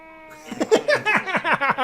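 A household cat animated by electronic equipment in Tim Burton's film Hansel and Gretel meows in a quick series of rising and falling calls after a brief steady tone, fairly loud and alone.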